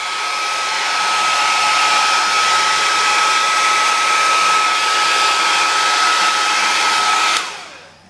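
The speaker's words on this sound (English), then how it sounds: "So, quick blast with the hairdryer." Handheld hairdryer blowing on wet paint in an art studio, a loud, steady whirring rush with a constant high whine, running close and unbroken for several seconds before being switched off and winding down.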